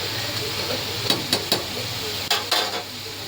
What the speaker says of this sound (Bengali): দেখো পেঁয়াজটা একটু ভাজা ভাজা হয়ে গেছে